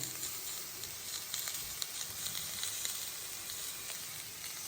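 Salt and turmeric fry lightly in a pan before eggs go in, giving a steady, soft sizzle with small crackling pops and no talk.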